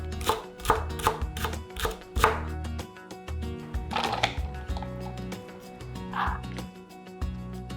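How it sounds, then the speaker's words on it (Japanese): A whole Japanese leek being finely minced with a knife on a board: a quick run of crisp, rhythmic chops, fairly close, with a few pauses, over soft background music. "長ネギは1本丸ごとみじん切りします。"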